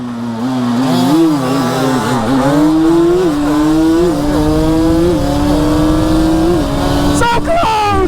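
A stock Yamaha Banshee 350 and a stock Honda CR125R, both two-stroke quads, launch hard in first gear on pavement, engines screaming loud and close, revs rising and falling across gear changes with whoops and cheering over the top.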